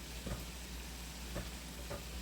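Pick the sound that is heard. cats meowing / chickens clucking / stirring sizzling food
stirring sizzling food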